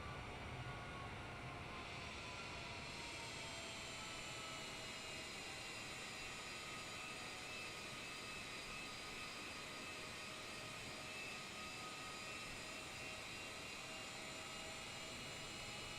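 Boeing 787-10 Dreamliner jet engines in a flight simulator game, heard as a steady, dense, airy roar with faint tonal whines. The sound holds unbroken and even for sixteen seconds, quiet overall, with no talk.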